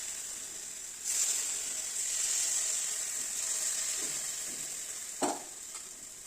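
Ragi batter sizzles in a kuzhi paniyaram pan on the stove: a steady, close frying hiss starts abruptly and carries on, broken by a few soft scrapes and a sharp click near the end.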